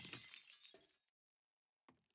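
Glass breaking in a video game, a bright crashing shatter that tails off, then silence and a second short crunchy glass burst, close and clear with no talk.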